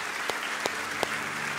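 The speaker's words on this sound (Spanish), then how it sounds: "dale tu mejor ofrenda de palmas al Rey de la Gloria" A church congregation applauds in a steady, dense wash of clapping, with a few louder individual claps standing out over about a second and a half.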